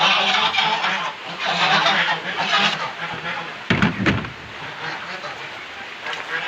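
Turkeys and chickens on a rainy farm calling loudly in a continuous overlapping din, with a sharp thump partway through and rain hiss throughout.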